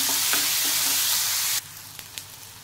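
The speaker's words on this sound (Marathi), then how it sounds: "चार बारीक चिरलेल्या हिरव्या मिरच्या, कांदा परतून घेऊया चांगला" Onion and green chillies sizzle in a hot pan, a loud steady frying hiss for a moment before it drops sharply, leaving a quieter sizzle with a couple of faint stirring knocks.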